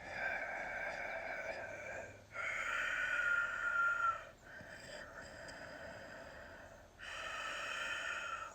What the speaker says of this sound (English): For the people that have done yoga, the Ujjayi breath sounds like this